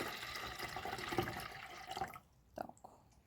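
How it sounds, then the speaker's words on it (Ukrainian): A small amount of warm water pours into a container, a close steady splashing stream that stops abruptly, followed by a brief drip. "Наливаю я водичку, небагато, тепленько."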